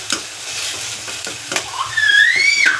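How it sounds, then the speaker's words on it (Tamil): Curry leaves and green chillies sauté in hot oil for a karamani gravy, a close, bright sizzle with stirring scrapes, ending in a high whistling hiss. "கூடவே வந்து கருவேப்பிலையும் பச்சை மிளகாயும் ஆட் பண்ணியாச்சு. நல்லா வதங்கட்டும்."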